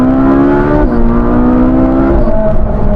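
A Ferrari 458 Spider's naturally aspirated 4.5-litre V8 revs hard in second gear in race mode, a loud continuous wail with strong harmonics that climbs steadily, dips briefly, then climbs again.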